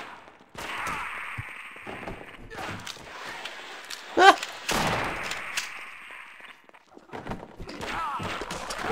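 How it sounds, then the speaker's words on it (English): Gunfire in Half-Life: Source, with a few sharp shots and bursts scattered among footsteps and quieter game noise, moderately loud, and a person talking intermittently. "They are shooting at each other."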